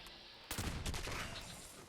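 A Gauss pistol fires in Fallout 76, one sharp explosive blast after a brief quiet start, followed by a rumbling, decaying tail.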